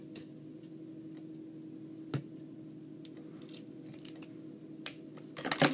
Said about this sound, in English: you take your scissors, clip or break or whatever, I use scissors